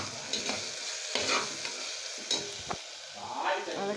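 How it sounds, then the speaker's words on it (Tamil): Mixed vegetables sauté in hot oil in a pan for vegetable biryani, a steady soft sizzle broken by scraping stirs of a spoon at close range, with no talking. "நல்லா எண்ணெய் மேலே வர்ற வரைக்கும் நல்லா வதக்கணும்."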